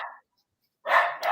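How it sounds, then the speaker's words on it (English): A dog barks twice, quick and fairly close, a short bark followed after a pause by a louder one. "It's gonna set my dog off in a minute."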